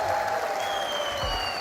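An esports arena crowd at an RLCS Major roars and claps in a dense, loud, continuous wash of noise, with a voice faintly audible beneath it.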